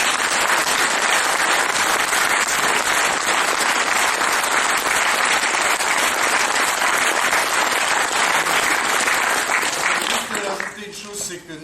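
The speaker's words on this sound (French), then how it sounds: "Je crois qu'on peut l'applaudir." A French theater audience breaks into sustained, dense applause that fills nearly the whole stretch at steady loudness, then thins and fades in the final second.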